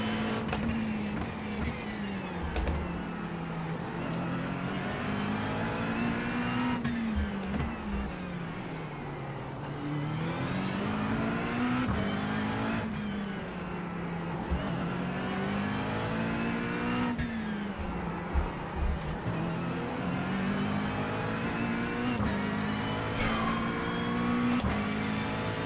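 A race car engine revs hard in iRacing at Long Beach, its pitch climbing and dropping repeatedly through gear changes and corners, loud and continuous for the whole stretch with brief clunks and no talk.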